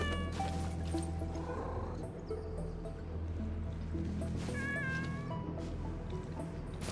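A cat meows several times in drawn-out, wavering calls over a steady background hum, clearest in the middle stretch.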